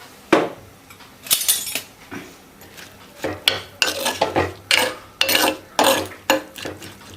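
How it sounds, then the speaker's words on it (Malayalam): A spoon scrapes and clatters around a pot in repeated bursts, stirring a thick curry of bilimbi and dried prawns, close up with short pauses between strokes. "ഇനി നമുക്ക് ഇളക്കി ഇട്ട് കൊടുക്കാം"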